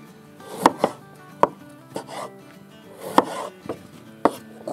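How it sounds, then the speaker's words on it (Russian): Knife chopping red and green peppers into cubes on a board for a bograch goulash, with sharp irregular thuds close by and no talk. "Нарезаем перец,"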